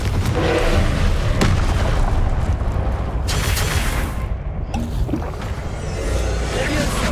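A Confringo fire spell explodes in Hogwarts Legacy: loud, dense fiery blasts and rumbling booms fill the scene continuously, with a brief drop near the end.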